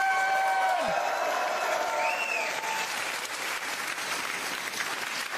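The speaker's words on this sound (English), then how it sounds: "Cheer for Mr. Craig Campbell, ladies and gentlemen!" Packed theater audience at a live stand-up comedy gig claps and cheers loudly for a comedian, a dense steady wash of applause with scattered whoops.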